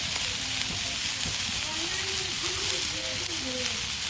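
Vegetables with green chili, turmeric and chili powder sauté in hot oil in a village kitchen, giving a steady soft sizzle with scraping stirs while a voice talks over it.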